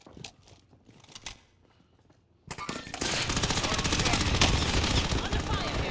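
Sustained automatic gunfire in Call of Duty Warzone with a Falklands '82 Royal Marine/SAS loadout, scattered shots at first, then a brief lull, then a loud, dense, continuous burst of rapid fire to the end.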